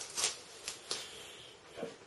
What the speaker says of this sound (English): So let me take this brace off.